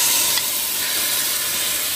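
Meat sizzles in a hot pot, making a loud, steady hiss of frying that holds unbroken throughout with no voices.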